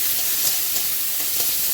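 Garlic and onions frying in oil in a special well-seasoned kadai, a steady loud hissing sizzle running continuously with slight pops, no talk.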